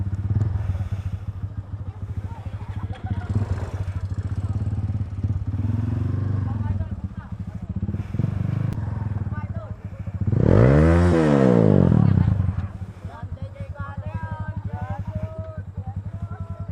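A motorcycle with a leak revs up sharply, the engine note rising and falling in a loud sweep midway, with idling and rattling before and after while people talk nearby.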